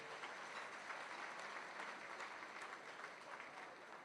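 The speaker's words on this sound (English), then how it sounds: "Let's give them a hand clap for making it possible for us to be here today." A luncheon audience applauds its event sponsors: steady, dense clapping from a large crowd, heard faintly and at a distance, continuing evenly throughout with no talking.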